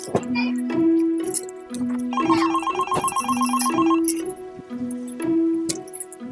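A phone rings with a repeating melodic ringtone, several cycles of bright electronic notes, loud and close.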